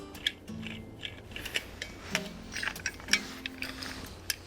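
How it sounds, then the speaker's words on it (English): Small metallic clicks and scraping as the handle of a heavy-duty backpacking toilet trowel is unscrewed, scattered irregular ticks that are close and fairly quiet, with no talking. "This bit of the handle screws off."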